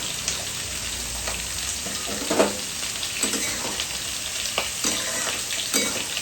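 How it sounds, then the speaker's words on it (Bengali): Potato and pumpkin pieces frying in a pan give off a steady close sizzle with occasional soft stirring scrapes and faint spatters throughout. "আলুটা একটু ভেজে নিলাম, কুমড়োটা দিয়ে দিলাম"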